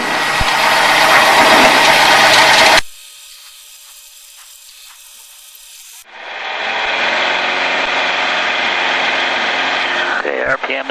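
A light aircraft engine runs through a takeoff roll, with a loud drone at first, then a quieter stretch with radio-like tones, then a steady strong engine hum returning, while a pilot talks over it.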